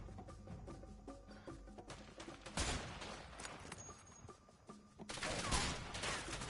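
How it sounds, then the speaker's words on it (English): Rapid gunfire from a gun in the video game A Way Out, dense bursts of shots crackling throughout, louder volleys near the middle and end, with no talking over them. "This gun is fun."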